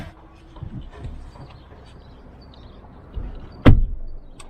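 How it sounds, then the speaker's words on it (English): A Ford Ranger FX4 Max door swings shut with a single solid, heavy thud near the end, after some quiet shuffling and handling noises close by. "I like the way the door closes, like nice and solid."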